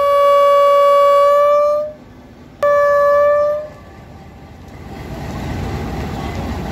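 As the Pakistan Express departs the busy HafizAbad railway station, two loud, close, sustained horn blasts sound, followed by the low, growing rumble of the train starting to move.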